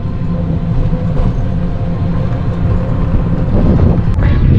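A motor boat, a trawler or launch, drones on a river in the Sundarbans, a loud, steady low engine rumble up close with no voices.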